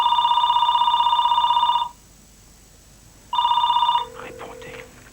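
A telephone rings in two loud electronic bursts separated by a short silence, followed by a faint clatter as the ringing stops.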